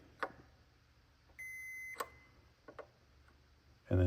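A single steady electronic beep from a multimeter on continuity mode, testing an HWH control board, lasts about half a second, surrounded by a few light clicks and taps.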